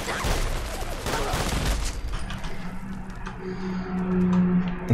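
Gunfire in the Fallout 4 video game, a quick burst of loud, dense shots at the start that cuts off abruptly, leaving a low game hum and ambient tones.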